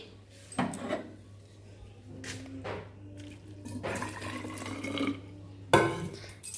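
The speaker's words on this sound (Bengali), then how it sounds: "একটু গরম জলে ধুয়ে নিই" Tea cups rinsed with hot water, scattered splashes and pours with clinks between quieter gaps, close and fairly soft, over a low steady hum.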